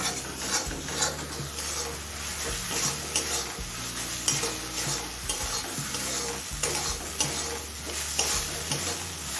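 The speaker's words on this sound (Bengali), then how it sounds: "এবার টমেটো নরম হয়ে আসা পর্যন্ত কষিয়ে নেব" Tomatoes frying in a pan on medium flame, heard as a continuous close sizzle with a rhythmic scraping stir running throughout, steady and fairly loud, with no voices.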